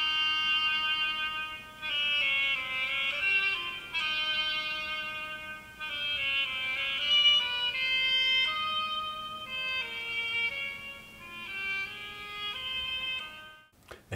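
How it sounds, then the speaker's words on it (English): An oboe plays the duck theme from Prokofiev's Peter and the Wolf, a reedy, nasal melody of sustained and gliding notes that carries on steadily alone and stops abruptly near the end. "The character of the duck is played by the oboe."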